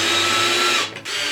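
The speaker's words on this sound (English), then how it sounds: "let's try drilling this through the pegboard" A power drill whirring loudly as it bores through pegboard for a DIY thread rack, a steady high whine that briefly dips near the end before resuming.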